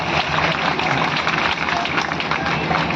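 Audience at a governor's public event in Ganjbasoda applauding, a steady sustained patter of many hands clapping at moderate loudness, dense and continuous for the whole stretch without a clear break.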